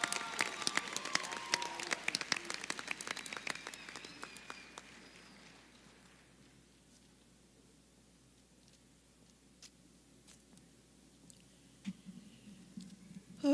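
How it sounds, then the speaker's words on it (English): A commencement ceremony audience claps for student speakers in a dense burst of applause that fades out over several seconds, leaving scattered claps and quiet room noise. "Let's give them one more round of applause, please."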